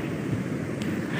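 Sea waves rolling in toward the shore, a steady broadband wash of surf with light wind noise over the microphone, continuous and fairly close, no talking.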